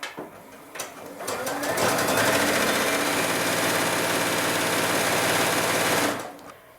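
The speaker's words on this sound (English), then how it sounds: "The first 2 strips I've sewn together from top to bottom with our shortened length" Sewing machine running a steady, continuous stitch to join quilt strips for a triple rail baby quilt using a shortened stitch length, with a brief start and stop and a sustained close whirring hum between.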